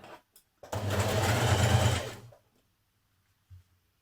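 A sewing machine stitches the neckband onto a jersey top with a shortened stitch length, running as a steady, close, whirring hum for over a second after a brief click, then stopping, with a faint thump afterward.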